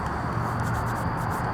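Someone imitates shuffling footsteps in a cemetery at night, producing a soft, continuous rubbing and scuffing texture that lasts about a second and a half, close and fairly steady.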